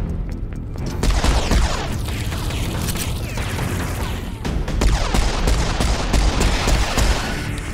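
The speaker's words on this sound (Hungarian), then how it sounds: "Dupla lövés, ez jó." Dense, sustained gunfire from a double-shot weapon in the shooter game Serious Sam 4, with rapid overlapping blasts and booms that run continuously and loud across the whole stretch, with no talk.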